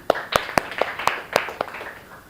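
Scattered hand claps from a classroom of students, about eight sharp claps spread unevenly over two seconds, fairly close and with no talking.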